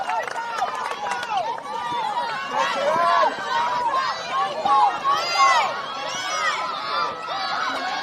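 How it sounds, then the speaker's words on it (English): A netball grand final crowd, Bencubbin versus Koorda, shouting and cheering steadily in a lively indoor hubbub, with many overlapping voices and a commentator's voice over the top. "everyone's just shouting in this crowd."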